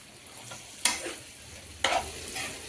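Paneer roll filling stirred in a hot pan, two distinct scraping strokes of a spoon over a gentle background sizzle, close and clear with no voices.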